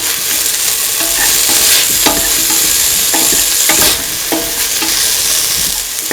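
Potatoes being stirred into a chickpea and coconut milk stew in a pan, with a steady scraping of the spoon and a soft sizzle running underneath, close and clear.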